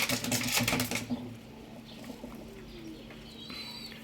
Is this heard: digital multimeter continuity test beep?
no